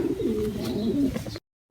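Racing pigeons coo in low, soft, continuous murmurs close by during a young-bird training flight, then the sound cuts off into silence with a faint tap at the end.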